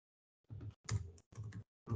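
Several short bursts of computer keyboard typing, close and fairly quiet, separated by brief pauses, with no voices.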